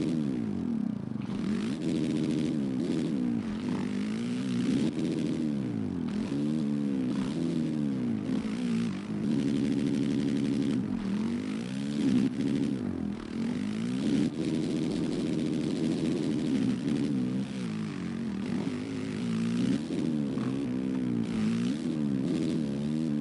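A single vehicle runs laps around a track held in second gear, its engine droning steadily with repeated rising and falling revs through the corners, loud and close throughout.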